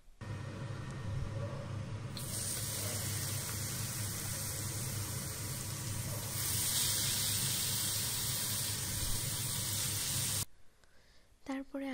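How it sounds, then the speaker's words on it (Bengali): Rohu fish pieces coated in turmeric, chili and salt frying in a pan, a steady hiss and sizzle of hot oil that swells louder midway and stops abruptly near the end. "রুই মাছটাকে হলুদ মরিচ লবণ দিয়ে যে মাখিয়ে রেখেছিলাম সেটাকেও হচ্ছে ভালো মতো ভেজে নিচ্ছি"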